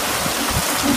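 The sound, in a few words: hail falling during a windy thunderstorm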